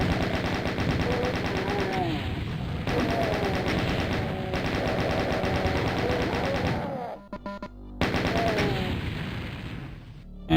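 Chain gun in Doom firing in long continuous rapid bursts, loud and close, with a brief pause and a few separated shots before the stream of fire resumes.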